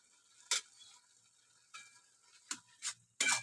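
Chicken and pointed gourd filling with cumin and chili powder being fried and stirred in a pan, heard as a few short, sharp scraping sizzles separated by quiet gaps.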